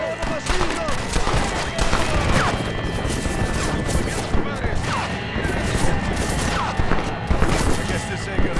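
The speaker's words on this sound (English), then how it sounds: "¡Look out, all the machine guns!" Machine gun fire rattles in the Red Dead Redemption video game during a shootout at Allende's mansion, a dense, nonstop barrage of overlapping shots and crashes with voices shouting over it.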